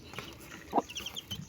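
Freshly hatched chicks clucking softly in short, irregular bursts, one louder call in the middle over a low, steady background.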